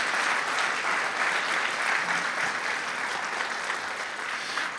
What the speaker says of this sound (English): give a round of applause for Wind Symphony again for their hard work on that piece